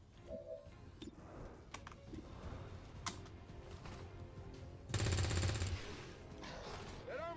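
Bursts of gunfire from bonus shots in XCOM 2, with isolated cracks early on and a dense, loud volley near the end, set against game ambience.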